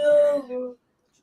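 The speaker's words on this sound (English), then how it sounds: "my dog's being a bit of a princess" A pet dog lets out one short whimpering, howl-like whine that slides and fades after under a second, close and fairly loud, then silence.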